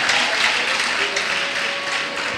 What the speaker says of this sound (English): Now begin to clap for Jesus for yourself